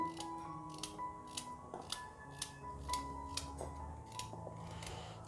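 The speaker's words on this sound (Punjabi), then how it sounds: "ਇਸੇ ਤਰ੍ਹਾਂ ਆਪਾਂ ਸਾਰੀਆਂ ਗਾਜਰਾਂ ਨੂੰ ਇਸ ਤਰ੍ਹਾਂ ਗੋਲ ਸਲਾਈਸ ਵਿੱਚ ਕੱਟ ਲੈਣੇ ਆ" Knife chopping carrots into round slices for gajar halwa, a steady series of sharp, close taps on a cutting board about every half second, with no talking.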